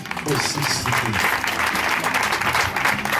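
Congregation at a Sunday church service applauding: dense, steady clapping fills the whole stretch, loud and close, with voices mixed in among the hands.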